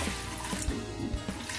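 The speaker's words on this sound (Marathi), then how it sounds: "पाणी घालते मी" Water is poured into a pressure cooker before vegetables are set inside to steam for pav bhaji. The trickle and splash are soft and fairly quiet, with a few small bumps along the way.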